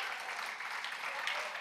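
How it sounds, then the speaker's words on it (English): A church congregation clapping hands, a faint, even patter of applause from a crowd at a distance. "So clap your hands for them, y'all, for their faithfulness."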